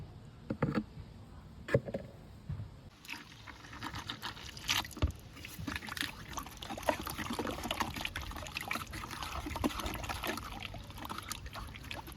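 Liquid poured into a container and mixed with water, giving uneven splashing and trickling sloshes that grow steadier, close by, with no speech.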